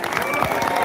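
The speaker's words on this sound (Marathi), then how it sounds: "एकदा जोरदार टाळ्या होत्या विचारवंत जे लोक आपल्याला साथ द्यायला नाही त्यांच्यासाठी" A large crowd at a Marathi protest rally over the TET paper leak and the MPSC online exam chaos claps loudly and steadily. Dense, continuous applause fills the whole moment.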